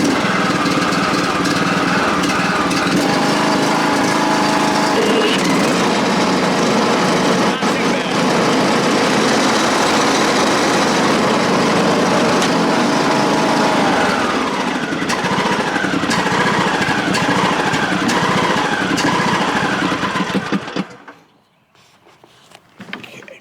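A John Deere LA105 lawn tractor engine runs loud and rough with a rattling, scraping drone from brake shoes on the pulleys, steady for about twenty seconds before abruptly cutting off.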